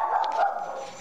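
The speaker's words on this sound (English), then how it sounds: "Sorry about my dogs." A dog gives a short, muffled bark or yip in a home, one brief sound that quickly fades, heard alone.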